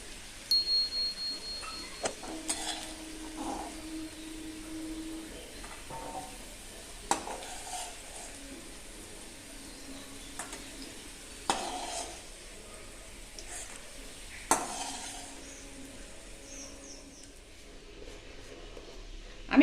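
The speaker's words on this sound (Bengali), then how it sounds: "আলুগুলো ভেজে নিয়ে তারপর দেখো আমার আলুটা ভাজা হয়ে গেছে" Potatoes frying in oil in a pan, heard as a soft, steady sizzle broken by occasional scrapes and taps of a stirring utensil against the pan.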